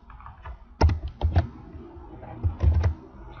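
Someone types an address on a computer keyboard in a few short bursts of clicking keystrokes. Two clusters stand out, separated by a brief pause, close and clear with no talking.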